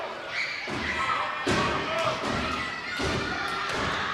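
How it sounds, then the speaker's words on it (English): Heavy, dull thuds land every second or so as a wrestler stomps the ring apron mat, each a low booming stomp with a faint crowd murmur and some talk beneath. "That noise is Cujo stomping the mat on the apron to try to get the crowd worked up"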